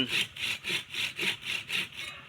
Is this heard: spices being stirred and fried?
no